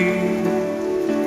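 Steady morning rain falls on a surface as a continuous, dense patter that stays even throughout, with a faint tonal hum underneath and no voices.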